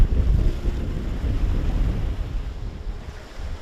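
Strong wind roars across open sea around a fishing boat off Chuja Island, a loud, steady gusting rush over low surf and wave wash, with no voices.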